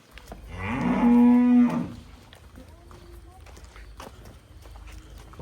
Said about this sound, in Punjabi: ਫਾਈਨਲ ਇਹ ਗਾਂ ਆਈ ਹੈ ਮੋਨੀ, ਫੜਾ ਉਹਨੂੰ।